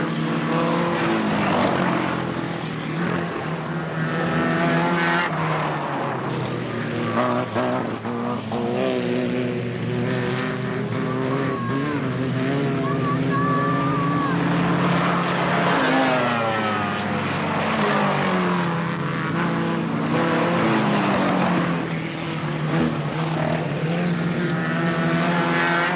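Race cars circle Alwalton Raceway in 1983, their engines droning loudly and continuously with wavering pitch as several machines run together on track.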